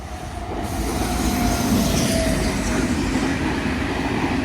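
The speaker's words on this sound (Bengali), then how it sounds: "এই যে দেখছো ট্রেন আসছে" A train rumbles past close by near the Khirai flower fields, a loud continuous roar of wheels on rails with faint squealing, swelling steadily and holding strong throughout.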